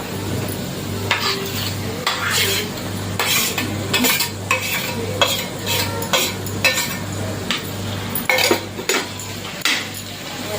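Mashed roasted brinjal bharit with softened onion and onion greens gets stirred in a pan, a run of close metallic scrapes and clinks of a spatula over a low sizzle and steady hum, without any talking.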